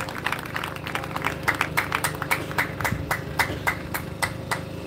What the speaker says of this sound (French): Il y a quelqu'un qui a applaudi fort là-bas.